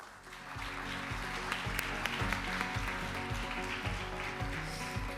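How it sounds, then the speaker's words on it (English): An audience at a conference session claps steadily as a panel ends, the dense applause sitting over a repeating low musical thump, fairly distant and even throughout. "Let's give them a big round of applause."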